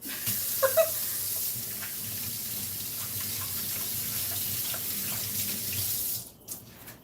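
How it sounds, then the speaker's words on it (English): Running tap water pours steadily into a sink while hands are washed under it, a close continuous splashing with a few brief clatters early on. The flow cuts off near the end, leaving quiet. "let me wash my hands"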